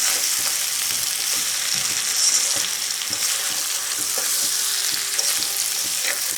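Giant freshwater prawns from a home pond are stirred through spices in a hot pan, making a dense, continuous sizzle laced with soft scraping and clinks of the spoon, with no talking.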